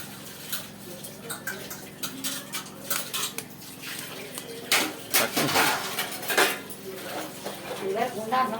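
Eggs broken into a bowl of boiled, deboned fish flesh for fish cutlets, with clinking bowl and utensil knocks, a few sharp cracks and a wet splashing pour, close up in a kitchen.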